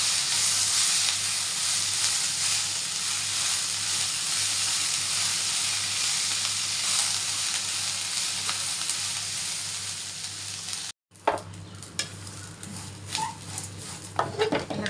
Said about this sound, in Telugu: ఇప్పుడు కరపాకు మంచిగా కరివేపాకు తిరిగి వేసేసి వేపాలి